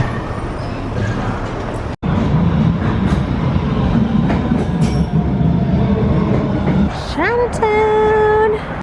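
An underground subway train rumbles and clatters loudly and close in a Boston station, with a brief cut partway through and a rising whine as it moves off near the end, with no talking over it.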